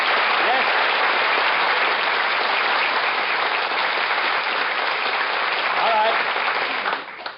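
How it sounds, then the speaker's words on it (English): A studio audience at a radio variety show claps and cheers in a dense, sustained burst of applause that fades away at the end. "Take the applause sign down."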